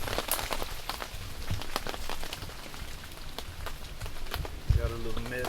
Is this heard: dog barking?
no